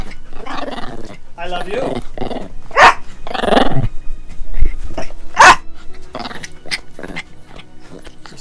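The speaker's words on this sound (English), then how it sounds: "You're such an angry dog." A dog growls and barks in short, harsh bursts close by. People talk affectionately over and between the sounds.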